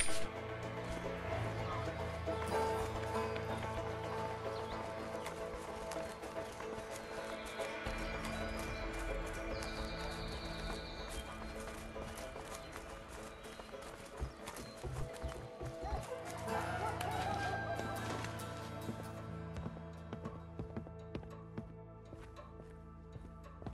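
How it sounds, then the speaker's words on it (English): Horses gallop in the video game A Way Out, a steady drumming of hooves with an occasional whinny, loud and close, set against a low rumbling game soundtrack. "Let's just hope these horses keep running."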